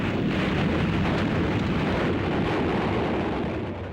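A Panzerfaust anti-tank rocket explosion in a World War II ambush of lead vehicles, heard as a loud, sustained rumbling roar. It fills the whole stretch with dense low noise and no clear break.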